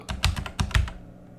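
Quick typing on a computer keyboard, a short close burst of about half a dozen clicky keystrokes that then trails into quiet, with no talking.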